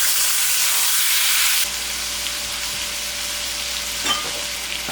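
Chicken seasoned with white pepper fries in a wok with a loud, bright hiss that abruptly drops to a quieter steady sizzle, followed by a couple of faint clinks and scrapes.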